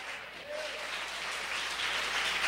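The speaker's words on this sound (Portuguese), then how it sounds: "dá uma salva de palmas para esse Deus Todo-Poderoso" Congregation applauding during a Portuguese-language worship service, a soft, steady wash of clapping that swells slightly toward the end, heard from a distance.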